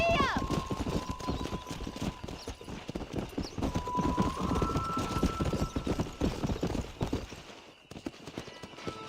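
Galloping horse hooves in the Red Dead Redemption video game, a rapid continuous clip-clop close up with an occasional whinny, while someone talks over it.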